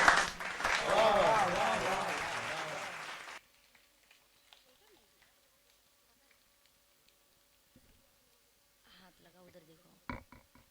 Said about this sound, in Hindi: जोरदार ताली बजा दीजिए इनके लिए।